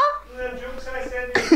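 A voice imitates a bad cough with a rough, throaty hacking and throat-clearing sound, followed by a sudden louder burst.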